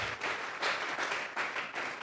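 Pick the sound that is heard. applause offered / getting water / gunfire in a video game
applause offered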